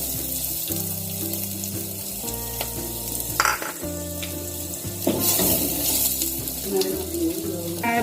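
Garlic sizzles loudly in hot chili garlic oil, a steady crackling fry with a few clatters of stirring and a brief burst of louder spitting partway through.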